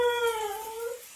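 A dog, excited by the smell of food being cooked, lets out a single loud, drawn-out whining howl that wavers and slowly fades, close by with no talking over it.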